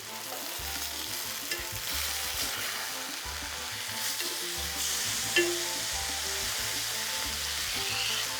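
Liver fries in a pan with a loud, steady sizzle, broken by scraping and stirring as the pieces are turned, with no talk.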